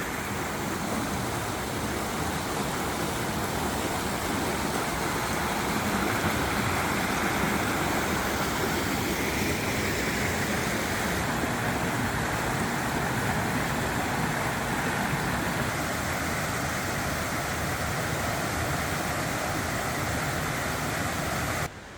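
Waterfall and stream on Koh Samui, Thailand: a steady, broad rush of falling water that stays even and fairly close for the whole stretch, with no voices.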